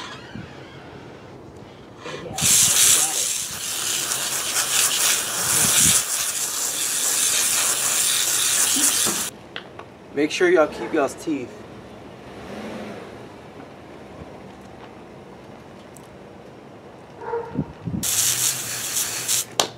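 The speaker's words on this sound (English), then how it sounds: "We're gonna use the water hose to spray off all the meat." Bursts of hissing water spray from a hose come in loud stretches separated by pauses, washing meat off a hog skull outdoors, with a person speaking briefly between the sprays.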